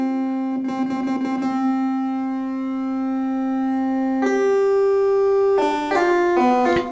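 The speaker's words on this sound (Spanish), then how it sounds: "esta es una onda cuadrada de la Arturia." Arturia synthesizer playing a square wave, a buzzy sustained tone held for several seconds, then stepping through higher and shifting notes, loud and close with no talking.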